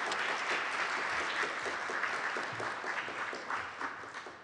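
A live audience applauds steadily throughout, a dense wash of clapping that welcomes a speaker to the stage at a research talk, holding even and unbroken with no voices over it.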